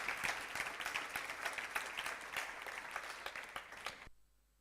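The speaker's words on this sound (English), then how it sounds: "I would like to have a very warm applause for Marie-Pierre." A room of attendees at an HIV virology session applauds warmly, a busy, even crackle of clapping that carries on steadily for about four seconds before cutting off abruptly into near silence.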